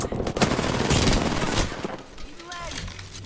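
Automatic weapon fire in the video game Apex Legends: a loud, rapid burst of gunshots for about two seconds, then quieter game sounds with a faint voice.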